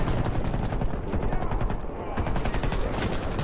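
Rapid, loud automatic gunfire from the shooter game Warface rattles almost continuously and close up, with a little game noise between bursts.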